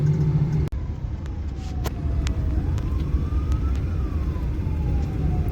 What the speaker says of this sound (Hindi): एम्बुलेंस भी जा रही है, गाड़ी भी जा रही है।